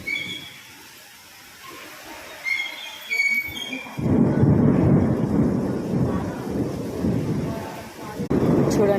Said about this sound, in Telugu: చూడండి ఉరుముతుంది, ఫుల్ గాలి